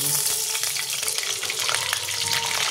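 Butter sizzling in a hot pan while cooking Bengali-style chicken Lahori, a steady close crackling fry that holds for the whole moment with faint clinks.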